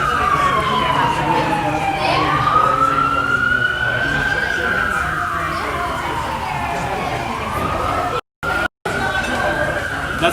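Emergency vehicle siren wailing through a snowy New York City street, rising and falling in long sweeps over steady traffic and city noise, fairly close and loud, with a couple of brief dropouts near the end.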